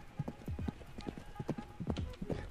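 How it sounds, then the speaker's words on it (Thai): Horse hooves galloping in the Roblox game A Universal Time, a rapid clip-clop rhythm of hoofbeats running steadily throughout, with someone talking excitedly over it. "ไปแล้วเจ้าม้าเร็วเข้า"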